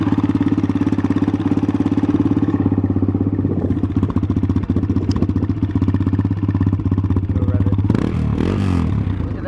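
A dirt bike engine runs at a steady, close, loud idle with a thumping pulse, then gives a short rev near the end.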